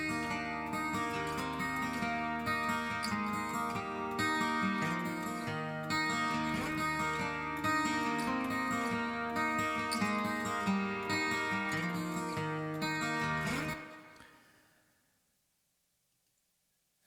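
Layered acoustic guitar carries the main part of a cover, steady strummed and picked chords ringing on continuously, then stopping and fading out near the end.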